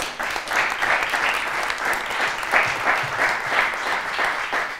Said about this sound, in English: you can applaud for this